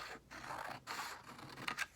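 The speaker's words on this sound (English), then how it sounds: "and I'm going to cut it." Scissors cut through folded paper close by in a quiet room, a steady crisp scraping shear broken by short pauses between strokes.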